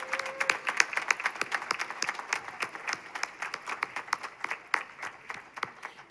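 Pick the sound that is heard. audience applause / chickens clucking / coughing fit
audience applause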